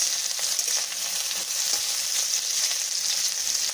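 Onion paste and dried red chillies fry in hot oil for a bitter gourd dish, giving a steady, loud, close sizzle with faint stirring scrapes throughout and no voices.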